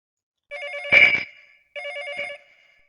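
A telephone rings in two trilling bursts, each with a warbling electronic tone, separated by a short pause. The ringing is close and clear, with silence before and after.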